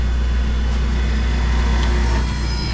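A Delta 43-792 sliding shaper, its 7.5 hp 230-volt three-phase braking motor running forward, gives a loud, steady, smooth hum with a low drone throughout, with no speech.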